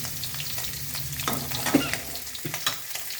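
Mustard seeds fry in hot oil in a pan, a steady close sizzle with crackles and light stirring clatter, no talking.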